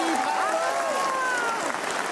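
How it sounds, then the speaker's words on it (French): A game show studio audience applauds a winner who has just taken the top cash prize, a full, continuous roar of clapping and cheering with whistles, steady and loud throughout. "On vous applaudit."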